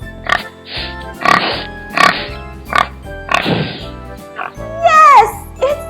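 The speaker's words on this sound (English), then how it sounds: "Yes, it's the sound of a pig." A pig in a children's farm-animal lesson gives a string of short, clear oinks and grunts about a second apart over soft backing music, then a voice chimes in near the end.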